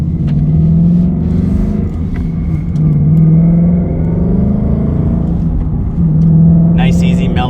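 Ford Mustang GT fitted with an MBRP 2.5-inch resonator bypass X-pipe accelerating on a highway, a steady deep exhaust drone rising in pitch through gear pulls, heard from inside the car.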